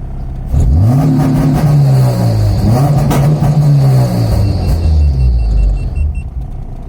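A car engine revs hard on launch control with a tuner-lowered setting, holding a deep, loud drone that rises and dips before fading as the revs drop.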